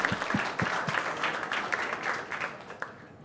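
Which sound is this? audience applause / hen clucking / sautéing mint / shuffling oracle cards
audience applause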